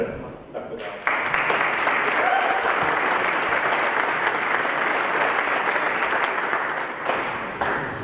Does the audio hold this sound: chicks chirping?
no